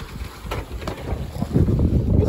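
Sailboat on a broad reach in the Greek Cyclades, with loud buffeting wind on the microphone and low rushing water against the hull that swells toward the end.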